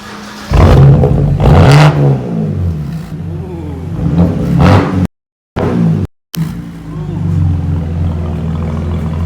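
A BMW E92 with an N52 engine revs loudly in repeated rising bursts close by, with brief dropouts and voices talking between the revs.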